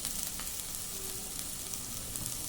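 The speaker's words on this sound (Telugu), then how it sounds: "మనకు ఉల్లిపాయలు అన్నీ వేగిపోయినాయండి, దాంట్లో పాటు మనకి ఇది కూడా వేగుతుంది." Onions and broad beans (chikkudukaya) fry in a pan for a bean curry, giving a steady close sizzle that stays even throughout, with no voices.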